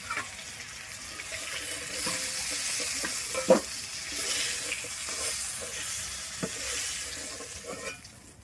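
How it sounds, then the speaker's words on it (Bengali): Flat beans frying in mustard oil in a Bengali kitchen, a steady soft sizzle throughout with a few brief clinks of utensils and no talking. "দিয়ে আমি সিমটা এবারে লাল করে ভেজে নেব"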